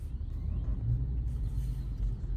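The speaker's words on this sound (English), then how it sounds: "But you saw that the car went by." A car drives past at night on an open road in dry weather, a low steady rumble of tyres and engine holding through the short stretch with no voices.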